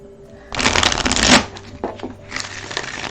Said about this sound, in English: Okay, shuffle it up